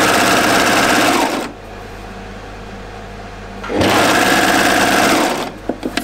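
A serger with differential feed set one step above neutral sews knit neckline binding on a jumpsuit, running loud and close in two bursts with a pause between and a few light clicks at the end.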